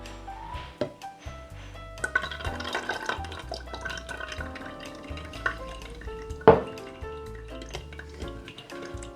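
Strained homemade tomato juice drips faintly, with sparse wet drops and light clinks of kitchenware against a quiet background.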